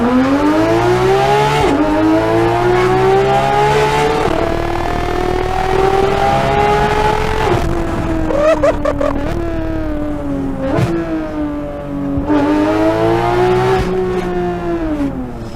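Porsche 991.2 GT3 RS flat-six fitted with a carbon fiber Venturi intake, revving loudly and continuously, pitch climbing and falling through several pulls with sharp blips between, no talk over it.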